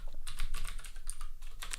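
A computer keyboard clatters with quick, uneven keystrokes, close and crisp, in a short burst of rapid typing with brief pauses and no talk.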